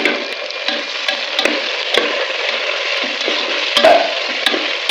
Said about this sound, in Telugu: ఆయిల్ వేడెక్కడం వల్ల త్వరగా బాగా ఫ్రై అయిపోయింది. ఇప్పుడు టమాటా వేసుకోవాలి.